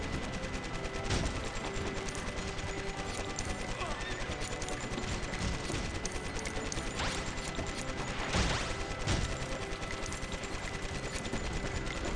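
Turret fire from The Lego Movie Videogame, a steady mechanical rattle of rapid shots running throughout with a few louder bursts, set against a busy game soundscape.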